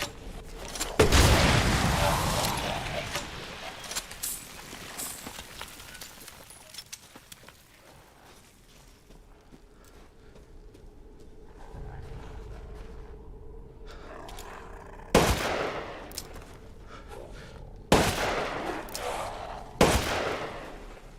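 Gunfire in the video game Resident Evil Village: a loud burst of shots at the start, then quieter ambience, followed by several more sharp, loud shots near the end.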